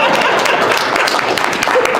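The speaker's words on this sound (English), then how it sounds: "You can clap." An audience at a manufacturers' forum claps continuously for two seconds, a dense, fairly loud patter of many hands with no clear pauses.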